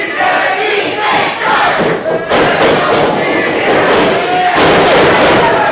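A wrestling crowd at a UWA Elite iWrestle 2024 show, loud and close, splits into rival chants for and against TJ, shouting and roaring continuously with thuds and swells of noise throughout.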